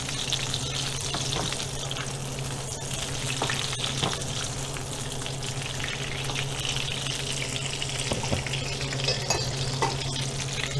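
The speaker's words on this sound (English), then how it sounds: "the whole purpose here is just to kind of heat it up and to get the skin good and seared" Sous vide duck breast sears skin-side down in a hot pan, giving a steady, even sizzle and crackle with faint scattered pops, alone with no voices.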